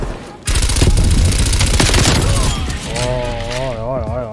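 Loud, sustained rapid gunfire and explosive bursts from a Call of Duty Black Ops Cold War team deathmatch on the Moscow map, dense and continuous, with a voice shouting over the shooting toward the end.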